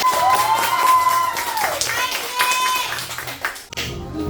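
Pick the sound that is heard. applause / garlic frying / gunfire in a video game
applause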